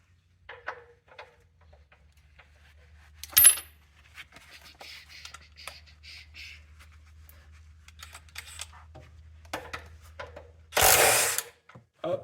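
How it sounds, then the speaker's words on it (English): A DeWalt impact wrench rattles and hammers at a tight oil drain plug on a 1974 Jeep CJ-5, scattered clicks and handling noises leading to a loud, close burst of impacting near the end. "I'm gonna have to get me an impact."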